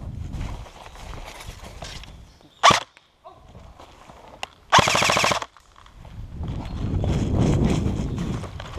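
Airsoft guns firing during a game in the Deux-Sèvres countryside: a sharp single shot, then a quick full-auto burst of snapping pops about half a second long, with rustling outdoor ambience and movement around them.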